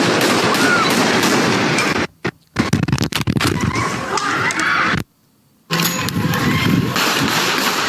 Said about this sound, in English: Oh, more firing.